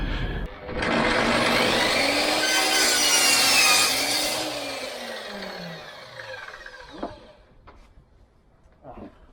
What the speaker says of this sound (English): I'm just going to cut this little rubber splinter guard on these sort of saws that runs down the edge of the track